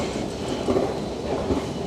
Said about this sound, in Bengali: এই নিউ ইয়র্কের সাবওয়ে।